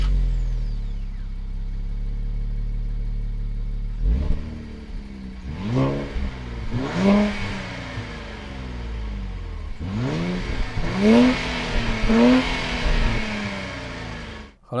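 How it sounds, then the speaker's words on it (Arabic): A 2024 Nissan Z sports car engine idles with a steady low rumble, then revs in repeated rising and falling bursts, recorded from behind the car with no talking. "راح أحط لكم الكاميرا بالخلف عشان تشوفون صوت السيارة الجميل"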